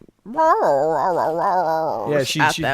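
A husky gives a long, wavering whine that rises and falls close by, then breaks into a few sharp, higher yaps at the end.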